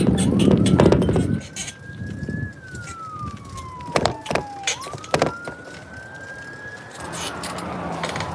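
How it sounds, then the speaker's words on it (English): A police siren wails in slow rising and falling sweeps at a distance, with scattered knocks and traffic noise around it. "Got a siren coming."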